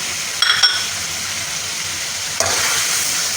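Lahori kidney and testicle meat fries with green chili and tomato in a hot pan, giving a loud continuous sizzle and two louder bursts of spatter as the mixture is stirred.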